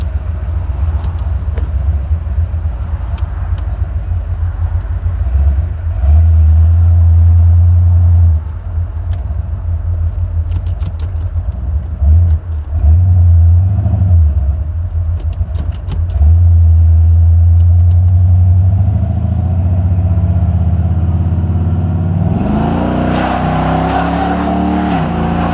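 A Buick 455 Stage-1 Regal-T V8 runs loud and close, its deep rumble climbing and falling through repeated rev surges as it is shifted manually, ending in a rising high-rpm pull.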